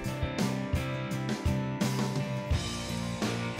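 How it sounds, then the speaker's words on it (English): Driving rock guitars play together, electric chords over an acoustic strum in a steady rhythmic pattern, with no voices. "That's the sound you're hearing in this demo, which features 3 driving British rock guitars"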